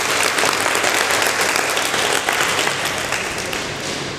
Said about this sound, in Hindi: जोर से तालियां बजा के बताओ।